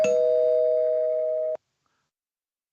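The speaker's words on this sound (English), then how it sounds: "I'm going to ring the spoiler bell for Andor" A spoiler bell sound effect: a single steady ringing tone held for about a second and a half, then cut off abruptly into silence.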